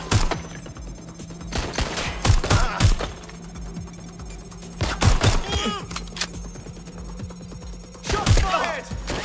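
Gunfire in Watch Dogs: Legion, several loud clusters of sharp shots spaced across the scene with pauses between bursts and a voice speaking briefly amid the firing.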